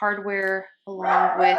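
Dogs barking in short, loud harmonic yelps and bow-wows, two bursts separated by a brief pause, overlapping with a person speaking.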